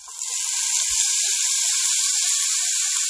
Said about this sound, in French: Là, je vais faire revenir un petit peu d'oignon.